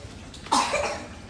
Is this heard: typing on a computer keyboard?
no